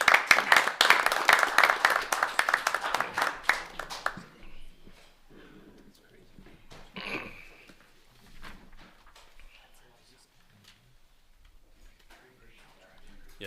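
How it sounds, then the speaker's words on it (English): A short burst of clapping rises at a city council meeting, lively for about four seconds before dying away to scattered claps and quiet room noise. "I think you deserve a round of applause"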